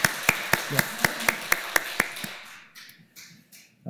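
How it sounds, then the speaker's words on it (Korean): A church congregation claps in a fairly even rhythm to welcome back a young man returned from military service, about nine distinct claps in a row that then trail off into quieter room noise. "우리 박수로 환영해 주시면 고맙겠습니다"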